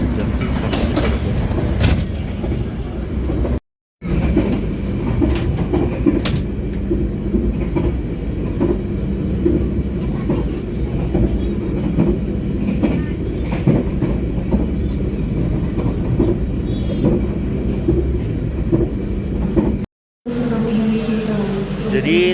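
The Sawunggalih passenger train runs on rails near Cirebon station, giving a loud, steady rumble with rhythmic clickety-clack of wheels over rail joints and faint squeals. Voices talk over it, and two brief dropouts interrupt it.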